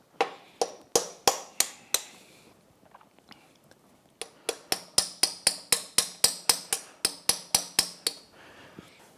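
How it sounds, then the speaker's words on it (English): Sharp metallic taps from bending back a tabbed washer on a Yamaha 60 HP outboard prop shaft, in two rapid, evenly paced series of close, crisp strikes separated by a short pause. "there is a washer with a couple of different tabs, and it looks like there's just one that I need to bend back right at the bottom"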